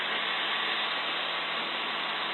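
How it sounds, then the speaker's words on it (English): A steady, loud engine drone fills the clip without pause, like a light aircraft's engine heard from inside the cabin; no one speaks. "All I can hear is the engine revs at the moment."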